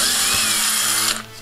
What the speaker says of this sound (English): Drilling a couple of holes